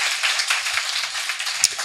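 An audience at a business seminar claps for a guest lecturer, a dense, even patter of many hands that holds steady for a couple of seconds, with one sharper clap standing out near the end.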